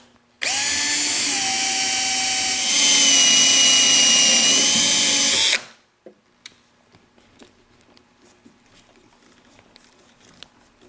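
A power drill whirs loudly for about five seconds while pre-drilling holes to fit pool table rails, pitch rising midway, then stops, leaving faint clicks and handling noises.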